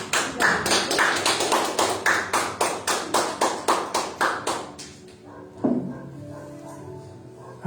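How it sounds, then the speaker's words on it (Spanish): Congregation at a Spanish-language church service clapping together in a steady, loud rhythmic beat, about three claps per second for five seconds, then stopping into a quieter room with a thump and faint murmur. "¿por qué no le da un aplauso a Jesucristo?"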